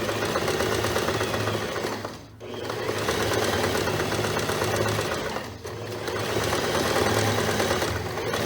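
A sewing machine stitches a seam on a blouse, running in a steady, loud, continuous whir with two brief pauses between runs, close up and without talk.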